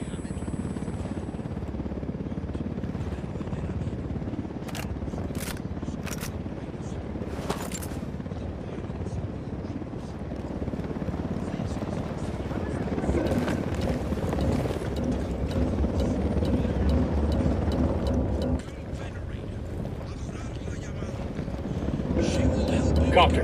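Helicopter from the video game Ghost Recon Wildlands passing overhead, a steady rotor drone beneath gunfire, explosions and shouted voices that carry through most of the stretch.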